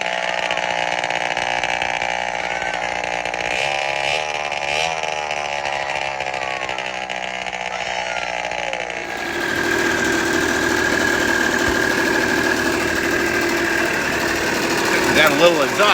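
A barn-find Honda Aero50 scooter's small engine catches and settles into a steady, buzzing idle close by, with a change in tone partway through and no talking.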